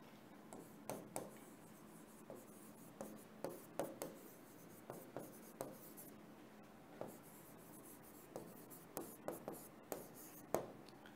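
Chalk taps and scratches on a classroom board as a sentence is written, in a steady series of short, crisp strokes heard up close in an otherwise quiet room.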